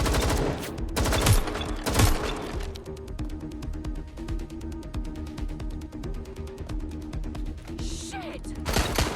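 Gunfire in the video game Watch Dogs Legion: a dense fusillade of rapid shots and bursts fills the scene, with loud cracks early on, then a steady stream of quick repeated pops carrying on throughout.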